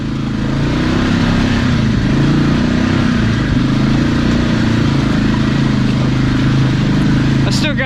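Polaris Ace 570 off-road vehicle climbing a waterfall in four-wheel low, its engine giving a steady, loud, close drone that holds without a break for the whole stretch.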